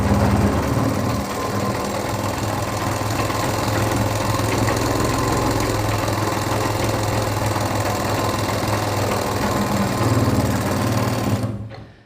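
A sewing machine runs continuously at speed while stitching a straight seam in cloth, a steady close whirring drone that stops abruptly at the end.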